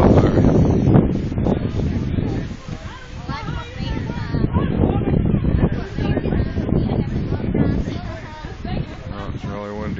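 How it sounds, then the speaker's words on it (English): Strong windshear gusts snap trees and buffet the microphone in a forest with a mudhole and Jeeps, a continuous rough roar that swells and eases, with people talking over it. "Oh, it's really windy."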